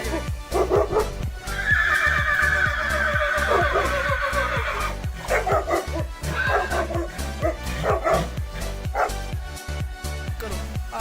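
Several dogs bark repeatedly and excitedly nearby, overlapping yips and barks in quick bursts, with a whinnying horse cry mixed in.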